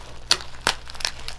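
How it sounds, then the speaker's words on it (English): Bubble wrap packaging crinkles and crackles as it is handled, sharp bursts close by in quick succession with no voices. "a ton of bubble wrap"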